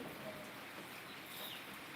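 Steady rain falls across a road, a dense, even hiss of drops that stays at one level throughout with no voices.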